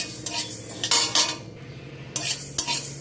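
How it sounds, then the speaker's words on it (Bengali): Panch phoron and black mustard seeds frying lightly in a pan for a holiday lunch thali, heard as a soft sizzle broken by bursts of stirring and utensil scraping, close and moderately loud, with no talking. "এই 5 ফোড়ন আর কালো সরষেটাকে প্রথমে একটু ভাজা করে নেব"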